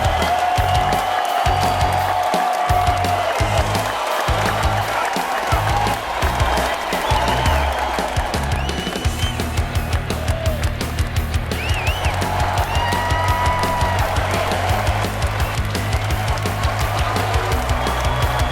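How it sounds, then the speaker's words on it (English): Sustained crowd applause for the QuakeLive duel champions at the QuakeCon 2011 grand final, a dense continuous clapping wash filling a large event hall, with loud cheering at moments. "one last round of applause"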